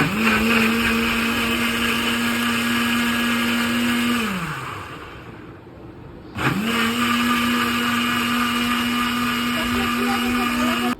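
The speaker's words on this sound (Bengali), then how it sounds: "এবার ব্লেন্ডারটা শুরু করি" A blender whirs loudly while blending a drink of ice and water, with a steady motor whine that winds down and stops partway through, then starts again and runs on at full speed.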